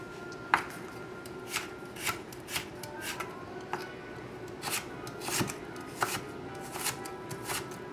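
A carrot cut with a knife on a board, giving a series of crisp, irregular chops and taps spread over several seconds, close but fairly quiet, with no voices.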